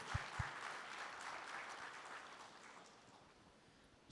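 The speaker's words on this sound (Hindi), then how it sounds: "जोरदार तालियां हमारे चेयरमैन साहब के लिए" Applause for a company chairman at a formal gathering, a faint, steady wash of clapping from a crowd that gradually fades toward the end.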